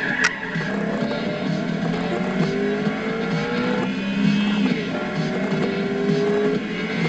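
A BMW M3 E92 with its 4-litre V8 driven hard, the engine note rising and falling through gear changes with a continuous loud roar and faint tire noise, no talking.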